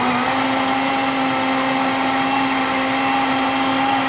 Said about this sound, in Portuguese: E nós vamos colocá-la no liquidificador para fazer um purê dessa goiaba.